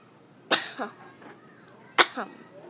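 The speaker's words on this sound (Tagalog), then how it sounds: "inuubo kasi ako" Two separate coughs, each a sharp burst with a short follow-up hack, about a second and a half apart in a quiet room.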